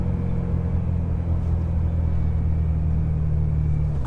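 A BMW E92 M3 fitted with an Akrapovic Evolution titanium exhaust gives a steady, deep rumble at a constant engine speed, close and fairly loud, with no talk over it.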